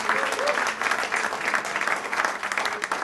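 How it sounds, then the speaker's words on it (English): Steady applause from a church congregation, dense and sustained clapping throughout with a few cheers mixed in. "Give the Lord a clap of hand"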